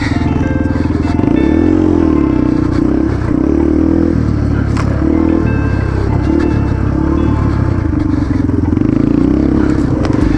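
Yamaha TTR 230 dirt bike ridden on a trail, its single-cylinder engine loud and close, rising and falling with throttle changes amid clattering and scraping, with wind noise throughout.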